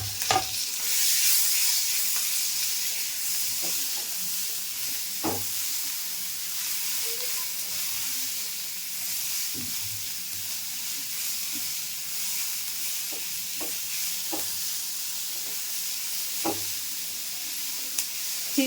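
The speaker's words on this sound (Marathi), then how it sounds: "हे सगळं असं तुपात फ्राय करून घेते मी आता." Sweetcorn, cabbage, tomato and capsicum fry in ghee in a pan with a steady, close hiss and sizzle, broken by occasional taps and scrapes of a stirring spoon.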